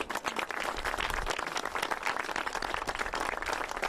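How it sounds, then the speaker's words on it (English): Onlookers at an outdoor Golden Gate Bridge federal grant announcement applaud the bridge workers, a soft, distant patter of many hands clapping steadily without a break. "I'd like to give you a round of applause"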